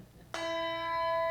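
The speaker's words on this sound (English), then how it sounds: "So Trish, would you hold up your bell and ring that for us?" A large handbell from a handbell choir is struck once, giving a sudden bright clang that rings on as a clear, sustained tone, close and moderately loud.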